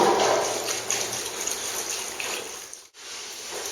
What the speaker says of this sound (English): we pour water right on top of the trowel, and that helps clean the trowel also